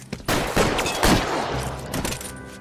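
Gunfire in a shootout in the video game L.A. Noire, a loud burst of overlapping shots and bangs that jumps up suddenly, then tails off into a rumbling, echoing decay.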